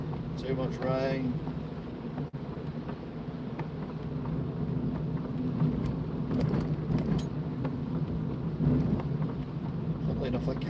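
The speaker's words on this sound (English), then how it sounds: "too much rain." Heavy rain drumming on a car while driving, a dense steady wash of rain and road noise inside the vehicle, with occasional voices under it.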